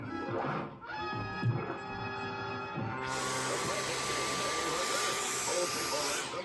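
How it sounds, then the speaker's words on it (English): A Dyson vacuum cleaner kicks in partway through, becoming a loud, steady rushing whine that continues to the end, layered over a busy background of other sounds. "This is a Dyson. It's a great vacuum cleaner, but also a tremendous space toy."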